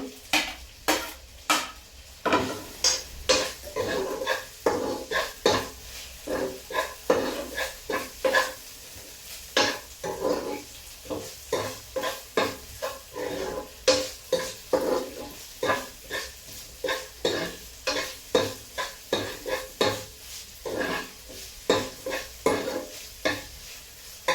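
Puffed rice and curry leaves roast in a pan while being stirred, making loud, close, evenly spaced scraping strokes over a light dry sizzle.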